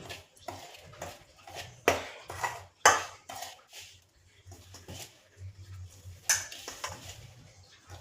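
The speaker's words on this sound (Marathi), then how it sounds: "तर इथं हे गरम असल्यामुळं थोडंसं मी चमच्याला असं व्यवस्थित मिक्स करून घेते" A spoon scrapes and clinks against a bowl while ghee is stirred into wheat flour dough, giving irregular close taps and knocks with quieter rubbing between them.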